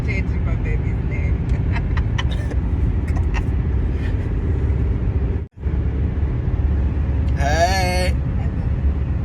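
A car cruising down a highway gives a steady, loud road-and-engine rumble that runs nearly the whole time, broken by one brief dropout midway, with voices talking from inside the cabin.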